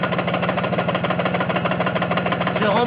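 Vespa T5 scooter engine idling with the clutch disengaged, close up: a rapid, steady mechanical chugging with a buzzy rattle that runs without a break.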